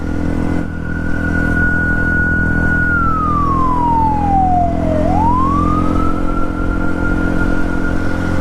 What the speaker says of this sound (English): I hear the police coming, and the police over there, the police over here